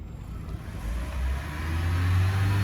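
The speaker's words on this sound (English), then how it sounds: "let me literally give it a few revs" A 2013 Toyota Prius engine rises from a low idle into a revving growl, its pitch climbing and loudness building toward the end.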